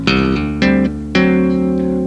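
Tapped guitar line of thumb slaps and double-stop hammer-ons, three crisp percussive attacks spaced about half a second apart, each ringing bright and sustained, close and clear without any voice.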